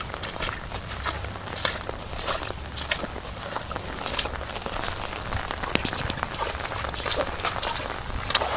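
Heavy rain during a storm patters steadily and densely on surfaces, a continuous close wash of drops with scattered sharper taps and no speech over it.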